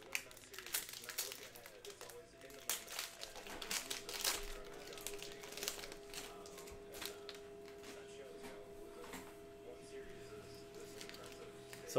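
A Panini Donruss Optic trading card pack being ripped open, with close crinkling and tearing of the wrapper in bursts over a steady low hum and a faint voice in the background.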